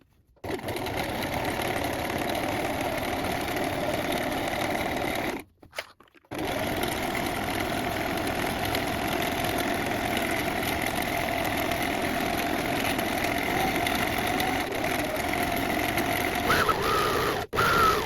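A sewing machine hums steadily and closely while stitching a trouser seam with a triple elastic stitch, running continuously with one brief pause partway through.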